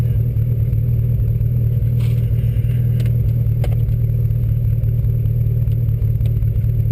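Red Mitsubishi Evo idling after a cold start, its engine holding a steady, loud mid-pitched drone with faint clatter on top; no clear revving surge and no talk.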